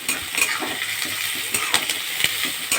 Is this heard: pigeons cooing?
no